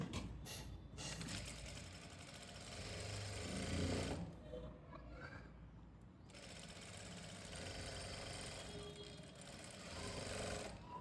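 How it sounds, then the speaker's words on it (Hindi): A sewing machine stitches a half-inch seam along a blouse border in steady, buzzing runs, pausing briefly near the middle before resuming, close and alone without talk. "यहाँ से हम 1/2 इंच की सिलाई लगा देंगे।"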